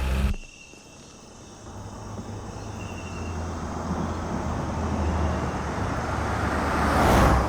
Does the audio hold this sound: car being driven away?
yes